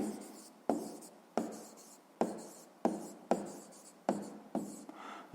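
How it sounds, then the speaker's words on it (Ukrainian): Pen strokes on paper as a math answer is written by hand, about eight close, rhythmic scratching bursts, each starting sharply and trailing off, with no talk. "Записуємо відповідь."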